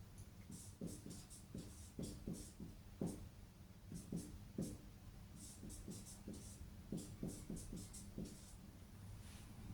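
Pen or marker writing on a board during a chemistry lesson on preparing haloalkanes, a steady series of short scratchy strokes close by, carrying on alone without talk.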